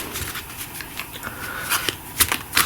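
Playing cards shuffled by hand at a table during a board game, a steady riffling patter with sharper snaps near the end, close and fairly quiet with no talk.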